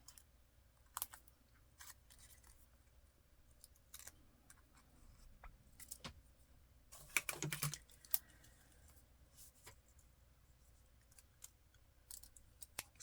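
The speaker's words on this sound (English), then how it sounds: "Scissors don't cut worth nothing." Quiet, sparse snips and clicks from scissors cutting collage paper, with a short cluster of sharper cuts midway through and near silence between them.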